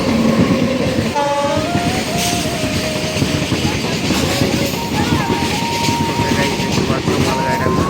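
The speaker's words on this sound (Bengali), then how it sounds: "মালগাড়ি আসতেছে দেখো।" A freight train pulls into a railway station with rolling wheel clatter, a sustained rumble and a long horn blast that shifts in pitch. A voice speaks over the train.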